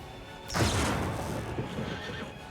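A horse in a video game gives a sudden loud whinny followed by a run of clip-clopping hooves, close and clear with no talking over it.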